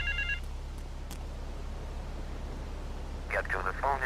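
Telephone ringing in Grand Theft Auto III, a short electronic ring at the start and a longer burst of warbling rings near the end over a constant low game hum.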